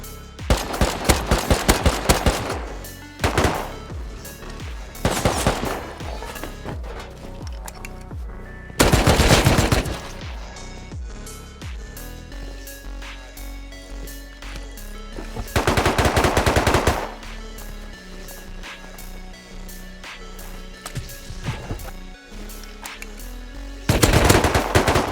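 Gunfire during a raid battle in the Rust game, repeated rapid automatic bursts and single shots, loud and close, separated by quieter stretches with distant pops.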